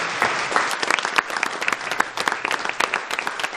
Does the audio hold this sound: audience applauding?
yes